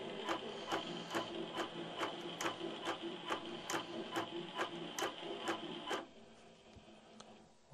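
An INNOVA AutoPilot longarm quilting machine stitching by itself, giving a steady close mechanical tick-tock of regular stitch beats over a motor hum, which then stops and leaves a quiet room.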